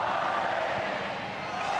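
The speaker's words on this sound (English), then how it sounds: "And the crowd are producing the olays now." Football stadium crowd at an Ecuador vs Panama friendly chanting olés, a massed roar of voices that holds at a steady, loud level with no breaks.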